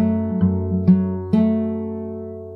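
Fingerstyle acoustic guitar playing a short passage, a few plucked notes over a sustained ringing chord that slowly fades, close and alone.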